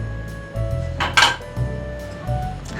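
Chopped cabbage and tomatoes go into a cooking pan, producing a few close clinks and scraping clatters of utensils against the pan over a low background hum.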